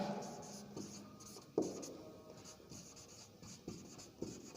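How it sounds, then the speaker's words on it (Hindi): Pen or chalk writing out a Sanskrit grammar question during a class, a soft continuous scratching with a few sharper taps and strokes, fairly quiet with no talk over it. "अब हम प्रश्न लिखेंगे"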